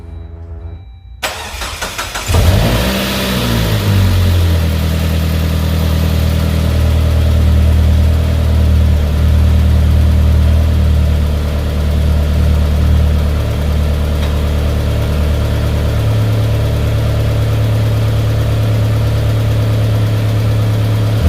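A Saab 9-5 car engine, with low oil pressure and just given an oil flush, cranks and starts, then settles into a steady, loud idle that hums on continuously.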